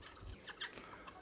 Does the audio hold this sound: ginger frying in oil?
no